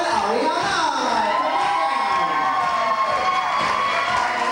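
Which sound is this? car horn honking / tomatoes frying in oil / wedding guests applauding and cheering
wedding guests applauding and cheering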